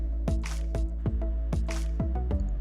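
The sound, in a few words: dampening face with water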